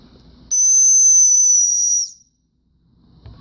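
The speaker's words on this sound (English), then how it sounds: "this part is a whistle. This whistle is really annoying. It's a very annoying sound. I'll just blow it for you." Built-in whistle on a Morpilot tactical knife blown once, a loud, piercing steady tone lasting about a second and a half before cutting off, with quiet room noise around it.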